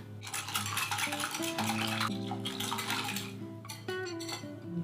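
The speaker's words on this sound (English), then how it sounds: "Give that a whisk until everything is smooth." A whisk works through a lemon zest batter in a bowl, making rapid metallic scraping and clinking against the sides, close and continuous with a brief pause, and no speech.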